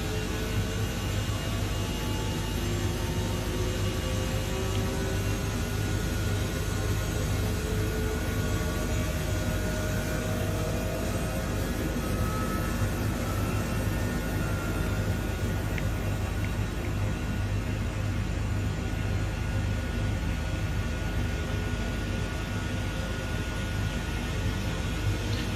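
A rescue helicopter engine winds up during startup of its second engine, a steady loud turbine whine and roar holding throughout without pause, with no voices.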